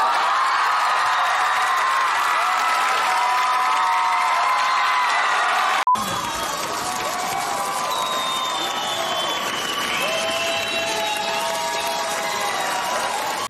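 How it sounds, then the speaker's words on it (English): A live studio audience at a sketch comedy taping cheers, yells and hollers, a loud continuous roar of voices and whoops that briefly cuts out and swells again. "they would explode, cheering and yelling and hollering whenever a character that they liked was introduced in a skit"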